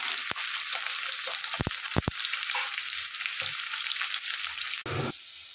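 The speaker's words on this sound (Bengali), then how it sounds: "আমরা হালকা করে আলুগুলো ভেজে নিই।" Potatoes frying lightly in a pan for a coconut dry chicken dish, giving a steady close sizzle throughout with a few sharp clicks and stirring knocks, no voices.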